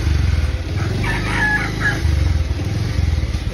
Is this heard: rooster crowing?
yes